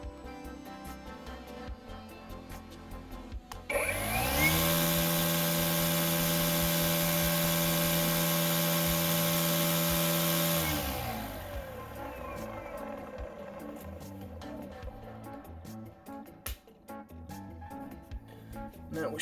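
An Ego string trimmer with an aluminum shaft spins up at low speed into a steady, tonal electric whine that holds for several seconds before winding down into quiet background clatter.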